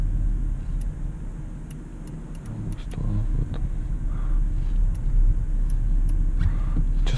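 An Audi Q7 towing a trailer backs up slowly, a low steady engine rumble with faint ticking and a slight rise in engine noise midway, no talk.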